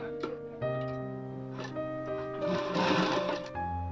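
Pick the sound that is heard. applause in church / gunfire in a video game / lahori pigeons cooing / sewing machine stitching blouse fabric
sewing machine stitching blouse fabric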